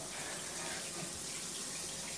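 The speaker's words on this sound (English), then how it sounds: "That's the rain shower." Hotel suite rain shower pouring steadily, a continuous hiss of falling water filling the space, close and even throughout with no talk.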